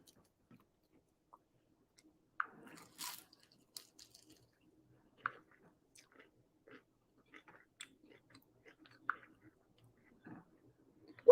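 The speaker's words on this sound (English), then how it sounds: "chewing in my ear, y'all" Someone chewing food close to a microphone in a quiet room: scattered soft crunches, wet clicks and bites at irregular intervals, with a few louder munches and near silence between.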